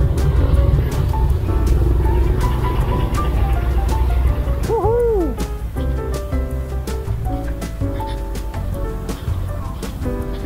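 A truck moves over beside a bicycle on the road, loud rumbling traffic noise that eases after a few seconds, with a brief tonal squeal and voices talking underneath.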